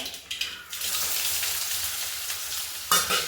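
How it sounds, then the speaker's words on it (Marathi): Chopped onion fries in hot oil with cumin and mustard seeds, giving a steady, close sizzle that crackles throughout the short moment, with a sharper spatter near the end. "आपण तेलात टाकून घेते जिथं कांदा छान असा तळला"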